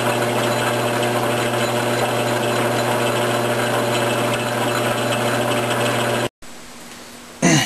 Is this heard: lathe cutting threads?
yes